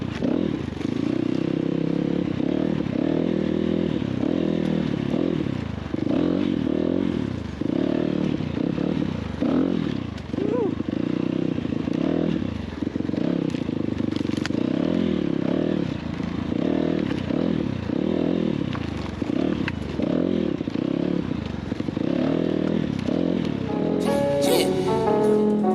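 A Kayo K6 250 EFI dirt bike engine runs nearby with a throbbing, pulsing low drone that rises and falls repeatedly, as if being ridden and revved, with a clattery edge throughout.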